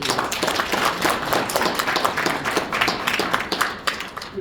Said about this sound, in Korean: 우리 이시원 회장님께 박수 한번 부탁드리겠습니다